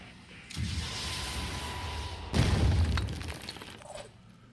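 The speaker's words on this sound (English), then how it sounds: "Now we have a rocket." A rocket blast in the Phoenix Point video game, heard as two loud booming bursts with crashing, debris-like breakup that fades over a few seconds.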